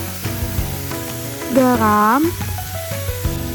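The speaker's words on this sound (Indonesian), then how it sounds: "Kemudian di wajan yang sama juga aku tumis bawang putih. Lalu tambahkan daging sapi giling." Ground beef frying with garlic in a wok for bibimbap gives a steady, close sizzle throughout, with a voice speaking briefly over it.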